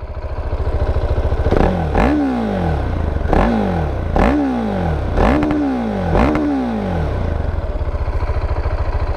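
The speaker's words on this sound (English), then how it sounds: "So let's give it a rev up." A motorcycle with a stock exhaust idles loudly up close, then revs sharply five times in a row, each rev rising and falling before settling back to a steady idle.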